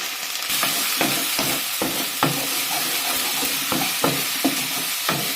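Spices with turmeric, salt and Kashmiri chili powder frying in a pan for a Bengali stuffed bitter gourd curry: loud, steady sizzling hiss with repeated spatula scrapes and taps at a loose, regular rhythm, close up.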